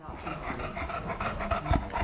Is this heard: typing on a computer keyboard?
no